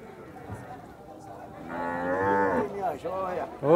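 Cattle mooing loudly nearby at a cattle fair in Campina Grande, Brazil, one long drawn-out low call followed by shorter moos, with faint voices in the background.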